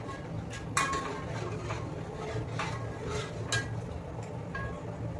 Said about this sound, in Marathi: आता मी हे मिक्स करून घेते